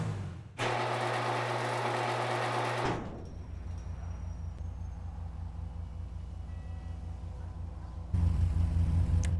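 In Grand Theft Auto V, a Zentorno supercar's engine drones loudly and steadily, cuts off abruptly into a quieter idling hum, then roars back up near the end.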